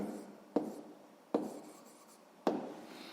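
Pen or marker strokes on paper or a board while a sixth-grade math problem is written out, with three sharp scratchy marks about a second apart, each trailing into a soft rub, close and fairly quiet.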